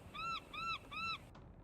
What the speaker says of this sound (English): Oh. A seagull. There must be land ahead.